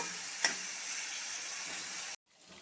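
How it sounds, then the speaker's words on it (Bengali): Chicken pieces frying in a pan without turmeric, a steady soft sizzle with a brief clink near the start, cutting off abruptly before the end. "মাংসটা ঢেলে দিবে লাল লাল করে ভেজে নিব"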